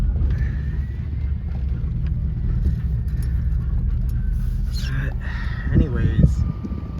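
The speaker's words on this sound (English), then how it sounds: "this is why four-wheel drive is nice. You can go right around it." A four-wheel-drive vehicle grinds off-road around a blocked trail in the remote Nevada wilderness, its steady engine rumble close and continuous, with wind buffeting the microphone and a brief burst of rattling near the end.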